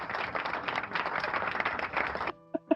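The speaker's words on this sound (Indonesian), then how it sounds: "Oke, gue kasih tepuk tangan dulu nih." Steady clapping from a few people in a podcast studio, brisk and close, lasting about two seconds before stopping, followed by two faint taps.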